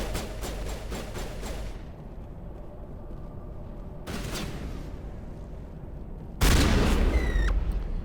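Gunfire in the video game Mass Effect 1 Legendary Edition: a rapid burst of shots, a pause, another short burst, then a loud sharp sniper blast that rings out with a fading metallic tail.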